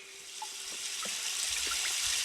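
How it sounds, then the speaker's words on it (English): In the Myst VR game, water pours out of a barrel with a rising, steady gush and splash, swelling from a trickle to a full flow nearby. "okay, it was full of water."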